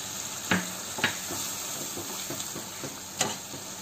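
Spice masala cooking in oil in a pan gives a quiet, steady sizzle, punctuated by a few sharp clicks and scrapes from stirring.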